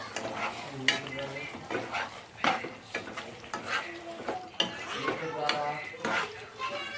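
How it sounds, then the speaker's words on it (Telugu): Curry being stirred in a pan after lemon juice goes in, with scraping spoon strokes and clinks against the metal over a faint sizzle, while a voice talks throughout. "ఆ తర్వాత ఇప్పుడు మళ్ళీ కలుపుతున్నాము."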